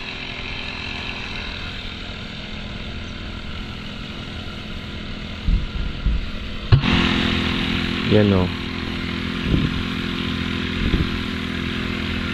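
A Bullstrike engine on a homemade hoe machine runs with a steady, rough drone, rising into louder bursts and a sharp knock partway through, while someone talks over it.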